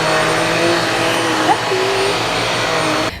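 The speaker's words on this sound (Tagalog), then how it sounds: "Madali lang i-operate tong Genie BX7 Pro Vacuum." Genie BX7 Pro vacuum cleaner running at home, a loud steady motor whine and airflow rush with a brief pitch shift midway, cutting off at the end.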